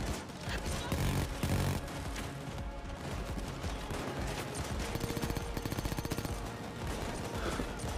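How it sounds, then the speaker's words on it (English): Heavy gunfire in PayDay 2 VR: dense automatic bursts fired at close range, followed by a fast, regular rattling string of shots, amid a chaotic, loud din of combat. "I am unleashing this fucking gun in his face and he is not down"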